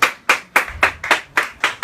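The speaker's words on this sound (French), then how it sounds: "applaudissements pour la chronique de Xavier" Studio audience claps in a slow, even rhythm for a columnist's segment on a live local show, about eight distinct loud hand claps spaced roughly a quarter second apart, close and clear.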